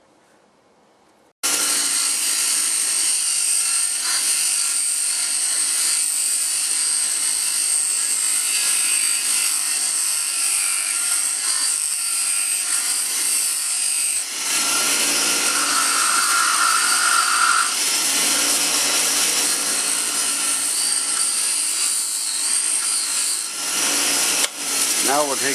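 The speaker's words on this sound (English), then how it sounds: "we better take it to the grinder." Grinder grinding the sharp edges off a metal rod, a loud continuous harsh whir that starts abruptly after a short quiet moment and runs steadily for over twenty seconds, with a brief shift in pitch partway through.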